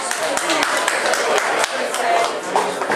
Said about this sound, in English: Y'all give the sheriff and Beth Wigington a round of applause.